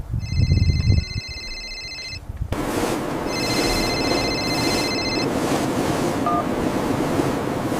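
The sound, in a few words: phone ringing, incoming call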